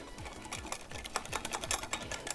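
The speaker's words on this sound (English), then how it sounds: "I'll do 2 small ladles. And give this a whisk." A whisk beats gelato mixture in a bowl, giving quick, repeated clicking strokes against the sides in a steady rhythm, fairly soft and close, with no speech.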